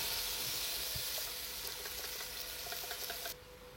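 Vegetables for curry and turmeric rice cook in a generous amount of oil with a soft, steady sizzle and hiss, which drops off abruptly just before the end.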